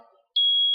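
A single high, steady electronic beep from an Arduino setup programming an ATMEL microcontroller starts abruptly after a moment of quiet and holds loud and clear.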